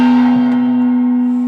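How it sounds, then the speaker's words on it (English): A gong rung once at the close of a talk show; a loud, sustained metallic tone holds steady and slowly decays for over a second. "just to ring the gong"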